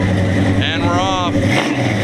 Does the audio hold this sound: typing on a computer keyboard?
no